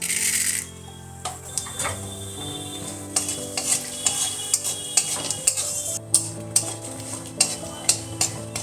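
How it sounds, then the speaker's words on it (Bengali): Two bay leaves, a dried red chilli and whole cumin tempering in a little mustard oil for a fish curry, a soft sizzle under repeated clinks and scrapes of a spoon stirring against the pan. "আর একটু সর্ষের তেল যোগ করে দিলাম ফোড়নের জন্য দিলাম দুটো তেজপাতা একটা শুকনো লঙ্কা গোটা জিরে"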